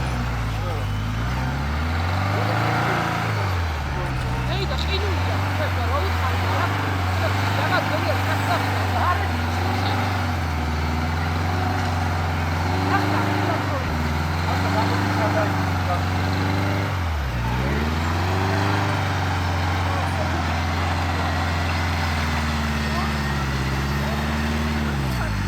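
Jeep Wrangler engine revving while stuck in deep snow, a loud steady drone that rises and falls in pitch over and over, with people talking throughout.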